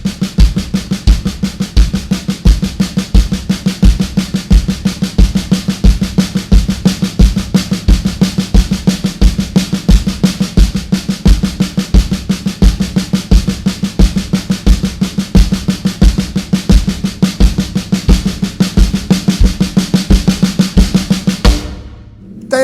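Drum stick-control patterns played as fast sixteenth notes over a steady quarter-note bass drum pulse, second line style practice, loud and continuous with no talking, stopping abruptly near the end.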